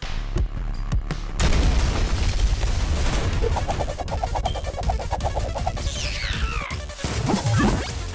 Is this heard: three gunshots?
yes